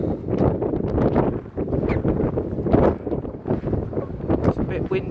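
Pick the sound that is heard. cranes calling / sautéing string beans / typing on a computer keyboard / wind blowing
wind blowing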